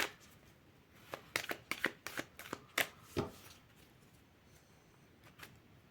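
Tarot cards shuffled for a reading give a run of crisp riffling snaps, about ten quick slaps bunched into a burst, then a couple of fainter flicks afterward, close and fairly quiet with no voices.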